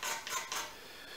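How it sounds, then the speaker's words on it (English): A butter knife scrapes a piece of chalkboard chalk into powder, giving a few short, soft, dry rasping strokes close by, with the scraping fading out toward the end. "I'm just using a butter knife to scrape this off"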